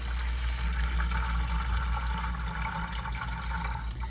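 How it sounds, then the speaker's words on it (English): Water from a budget reef aquarium drains steadily through a siphon hose, a continuous close, soft rushing and trickling flow with no talking. "So while that water's draining, I'm gonna kink the hose slightly to slow down the flow of the siphon"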